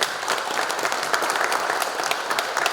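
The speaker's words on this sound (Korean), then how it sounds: "큰 박수 부탁드립니다." Audience at a residents' meeting applauding to welcome a committee chairman, a steady wash of many hands clapping, moderately loud and continuous.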